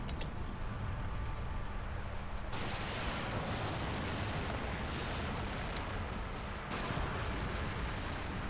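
Sustained heavy rumbling blast noise in Sniper Elite V2, loud and dense throughout, with a sharp surge partway through from a land mine explosion.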